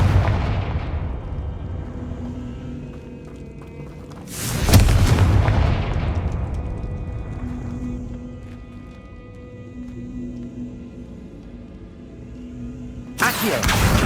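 Blasts from the Confringo fire spell in the video game Hogwarts Legacy, two loud booming explosions several seconds apart, each with a rumbling tail, over a low game ambience.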